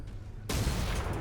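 Mech weapons fire in MechWarrior 5, a sudden loud blast cutting in after a quiet lull and sustaining as a roaring, dense barrage to the end.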